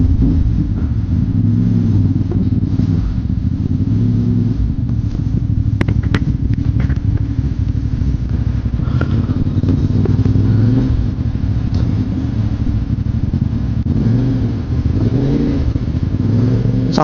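A CFMOTO 450MT motorcycle engine drones while riding off-road, a steady loud low rumble with faint rises in revs, mixed with road and wind noise throughout.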